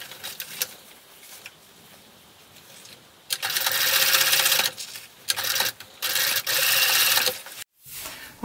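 A sewing machine stitches a label into the back waistband of swim trunks, quiet handling giving way to loud, buzzing runs of stitching in several bursts with short pauses between.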